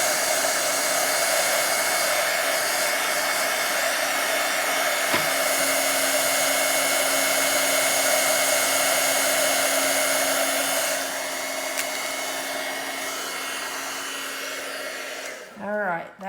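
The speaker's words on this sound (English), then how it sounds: "And this heat gun does get hot, so you want to be careful not to burn yourself or your page." A hot heat gun drying gesso on a Bible journaling page runs as a steady, loud whir, held close and continuous for most of the stretch. It cuts off near the end, and a brief voice follows.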